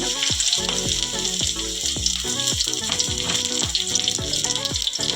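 Loud, steady sizzling of garlic, seasoning seeds, chana dal and peanuts frying in hot oil, with occasional clinks of a utensil stirring in the pan.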